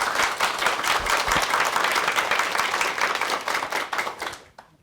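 A studio audience at a televised Korean lecture program bursts into loud, sustained applause, dense clapping filling the space evenly before tapering off and fading out at the end.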